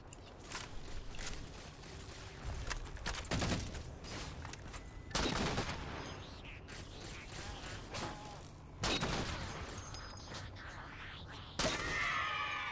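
Sniper rifle fire in the shooter game Halo 4: several loud, sharp shots spaced a few seconds apart, each with a brief echoing tail over a low background of game noise.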